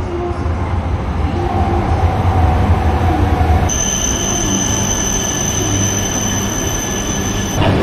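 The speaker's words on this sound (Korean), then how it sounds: "저건 반대편으로 가는 열차입니다. 저것도 일본에서 제일 빠른 열차예요." A high-speed train, among the fastest in Japan, rushes past on the opposite track, giving a loud, steady roar of wheels and air that turns into a sustained high metallic whine midway, with no talk.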